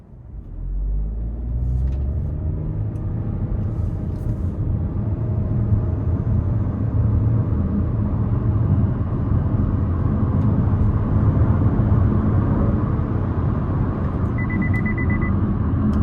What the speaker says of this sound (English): I wasn't flooring it. I was trying to just give it a little pull, kind of use the turbo there.